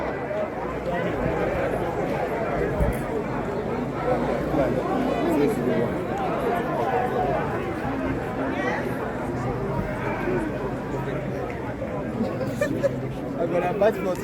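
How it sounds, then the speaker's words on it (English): A large crowd chattering at a Nigerian polling place during the 2023 presidential election, a dense, continuous babble of many voices nearby with occasional footsteps and movement mixed in. "Now this is quite a huge crowd."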